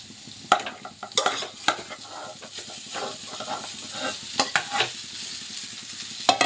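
Egg rice is stirred in a hot pan, with repeated close scraping strokes and clanks of the utensil over a steady sizzle, loud and busy throughout.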